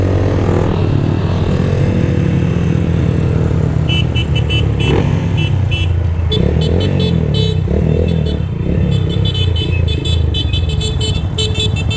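Several motorcycles idling and revving as they pull up to a nighttime riders' meetup, a loud continuous engine rumble with brief horn toots and a car passing close by.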